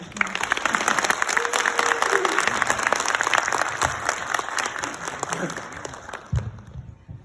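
Dense, sustained applause from an audience greeting students after a film screening Q&A at the Busan film festival, steady clapping for about six seconds before thinning out, with a few murmurs underneath.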